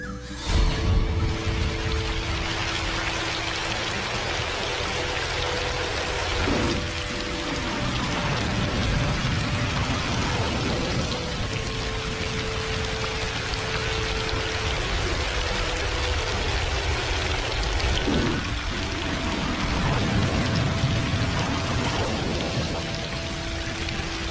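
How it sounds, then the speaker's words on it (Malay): Heavy, steady rainfall pours down with low rumbles of thunder rolling underneath at intervals, a continuous wash of sound with no voices. "Setiap kali bila hujan turun, bunyi guruh"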